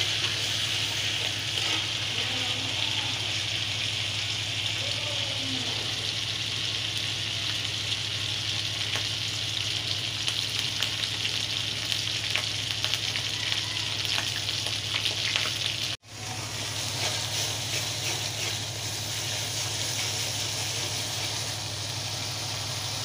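Fish sizzles steadily in a hot frying pan, a dense, even crackle that holds for the whole stretch with only a brief break in the sound partway through.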